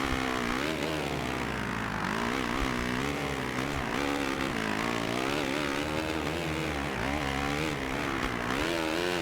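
A 250F motocross bike engine in the video game MXGP2, a continuous buzzing high-revving drone that rises and falls in pitch as the rider shifts and throttles, loud and steady with no talk.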